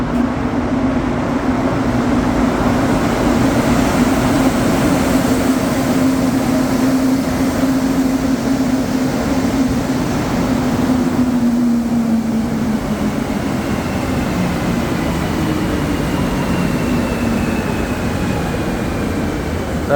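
An Azure metro train on Montreal's orange line moves through Berri-UQAM station, giving a steady loud rumble with a tonal whine that slowly falls in pitch. It goes on for the whole stretch, with no talk over it.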